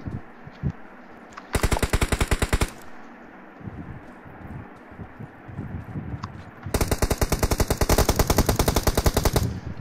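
Rapid automatic gunfire from the battle royale game BGMI, two loud sustained bursts of fast repeated shots separated by quieter game ambience, with no talk over them.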